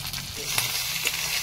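Chicken meat being stir-fried in a wok, a close, continuous dense sizzle with faint scraping of a utensil stirring through it.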